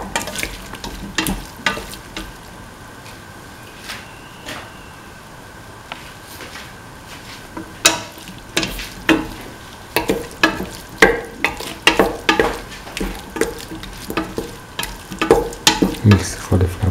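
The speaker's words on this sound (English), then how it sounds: "Mix the cauliflower pieces with the rest of the mixture thoroughly till they are nicely mixed." Cauliflower pieces stirred into a curry mixture in a pan, with repeated scraping spoon strokes in an irregular rhythm over a soft, steady background sizzle.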